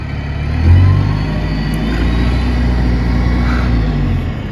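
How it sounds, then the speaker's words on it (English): A New Holland T6040 tractor drives past on a dairy farm, a steady low engine rumble and drone that swells briefly early on, then holds at an even, fairly loud level with no talking. "There goes Mum in the tractor."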